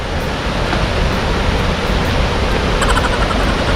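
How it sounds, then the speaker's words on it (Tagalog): Bagongbong Falls in Biliran pours down in a dense, steady roar of rushing water, loud and close, with no break across the short stretch. "So ayan na falls. Kita nyo na ba ang falls?"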